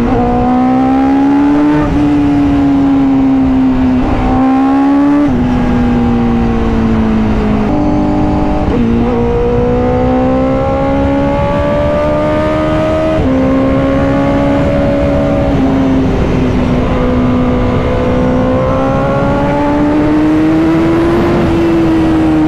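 A Honda CBR 1000RR-R SP sport motorcycle engine revs loud and close during a ride, its pitch climbing and dropping through gear changes with a steady harmonic whine and no talking.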